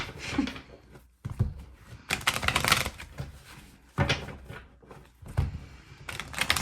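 Tarot cards being shuffled by hand in irregular bursts of riffling and snapping, each separated by short pauses, heard close up with no talking.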